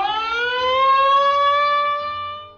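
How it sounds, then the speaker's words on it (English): A loud wailing severe weather warning siren with a steady rising tone, sustained throughout and fading slightly at the end, an outdoor siren in Bloomington. "The City of Bloomington also uses a siren when severe weather has been confirmed."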